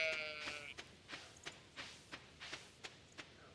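A sheep bleating in Stardew Valley, a short high bleat at the start followed by a steady series of soft, regularly spaced taps like small footsteps, faint and without talk.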